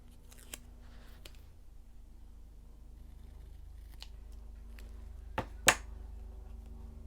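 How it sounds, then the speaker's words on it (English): Scissors trimming the edge of a sticker sheet for a planner, heard as a few faint snips early on and two sharper, louder cuts near the end over a quiet room hum. "I'm just going to trim down the edge"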